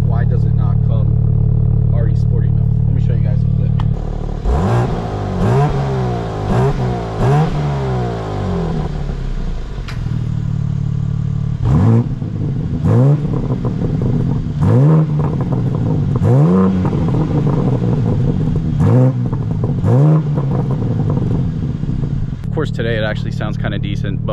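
A 2023 BMW M3 50 Jahre Edition inline-six engine idles, then revs repeatedly in sharp rising bursts with short pauses between, loud and close, a voice talking over parts of it.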